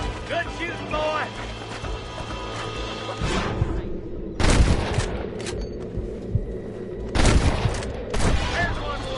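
Heavy gunfire rings out in Red Dead Redemption, with loud crashing volleys at intervals over a steady rumble, mixed with game voices and mechanical clatter.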